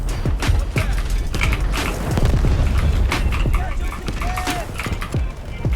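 Loud booming explosions in the game Delta Force burst amid dense action noise, with a voice occasionally heard underneath.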